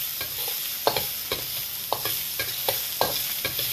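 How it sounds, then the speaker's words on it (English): Vegetables, including carrots and garlic, are stir-fried in an electric wok, with a steady sizzle broken by repeated scraping and clanking strokes of the utensil against the pan, close and alone. "this is a wok and it's electric, so everything in the middle cooks quicker than everything on the outside"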